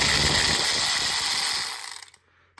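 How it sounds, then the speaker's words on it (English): A ratchet loosening E14 bolts on a Mini Cooper S N14 engine, with steady close mechanical clicking for about two seconds that then stops abruptly. "and just ratchet off the rest if you like, and take these bolts out then"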